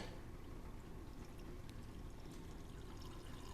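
Filtered water from a fridge dispenser pours steadily into a glass, a continuous close hiss and trickle running without pause for a few seconds.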